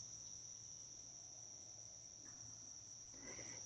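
Crickets chirp outdoors at dawn as a steady, high, continuous trill that runs unbroken through the whole stretch, moderately distant with faint background ambience and no talking.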